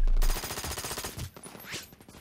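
Rapid automatic gunfire from the shooter game Brink on Xbox 360, a dense rattling burst of shots lasting about a second, then scattered weapon and game effects fading out, with no talking.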